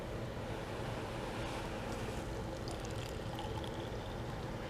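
Tie dye liquid being poured carefully into a bottle, a steady continuous wash of pouring sound that holds level throughout with no talk over it.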